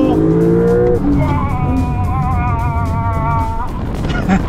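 A Porsche Carrera 4S makes a launch-control start in Sport Plus mode with left-foot braking. A loud, close, steady engine roar carries a rising, wavering tone through the middle of the clip.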